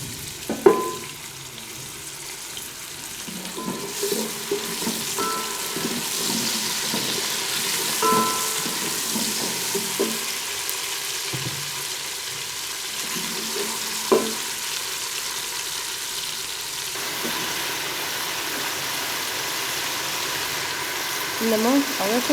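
Ginger frying in a pan for dal mash, a steady close sizzle with scattered clinks and stirring scrapes throughout, and faint voices now and then.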